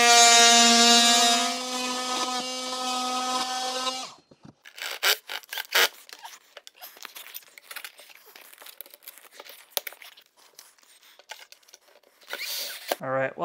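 Close scraping, rubbing and crinkling from trimming a central vacuum hose valve to fit during a Hide A Hose to Chameleon retractable hose conversion. Irregular scrapes follow a steady tonal hum at the start.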